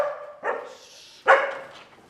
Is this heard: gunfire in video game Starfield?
no